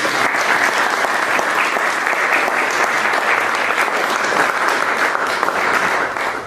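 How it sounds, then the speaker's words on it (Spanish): Sustained audience applause at a school session, steady dense clapping from many hands throughout, fading slightly at the very end. "Les pueden dar un aplauso"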